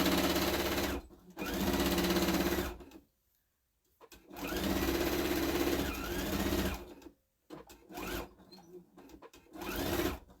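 Sewing machine stitching the bottom seam of a fabric bunny Easter basket in several close, loud runs of steady whirring, broken by short pauses and silent gaps between bursts.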